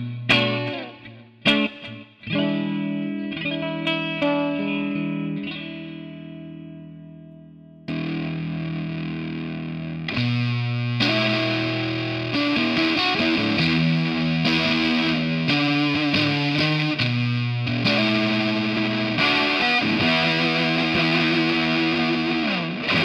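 Electric guitar through a Pelican Noiseworks Pelitaur fuzz pedal, opening with a few sustained fuzzy chords and notes, then thick, saturated, continuous riffing that stays loud and dense to the end, with no voices.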